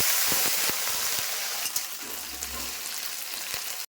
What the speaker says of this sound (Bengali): আমার কড়াই গরম হয়ে গেছে আমি এখন কালো জিরা দিচ্ছি এখন ওই যে ঢেঁড়সগুলো দিচ্ছি